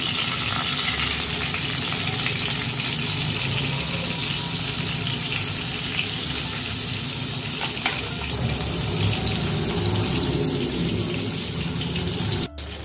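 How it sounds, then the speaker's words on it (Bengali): Pieces of eggplant for doi begun frying in oil on medium gas heat, a steady dense sizzle running without a break and ending with a brief clatter. "দেখুন আমি বেগুনগুলো উল্টে পাল্টে ভালো করে ভেজে নেব।"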